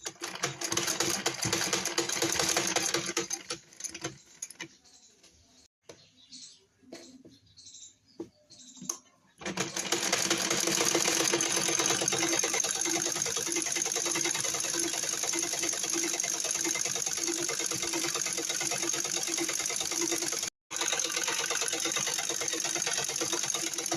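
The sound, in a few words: sewing machine stitching trousers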